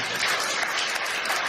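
A church congregation applauds its pastor in a brief, dense burst of many hands clapping at once, loud and continuous throughout.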